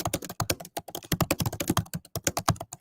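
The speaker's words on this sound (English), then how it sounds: "sorry about the typing noises there" Rapid, close-up clatter of fingers typing on a computer keyboard, bursts of keystrokes with brief pauses between them.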